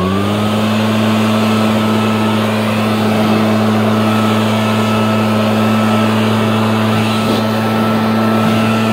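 A snow blower runs steadily while clearing snow from walkways by solar panels on a light-snow Michigan morning, its loud, even engine drone and whine holding unbroken nearby.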